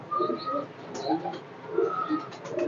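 Shive pigeons kept by a fancier cooing in several low, rolling phrases, near and steady with short pauses between calls and no voices over them.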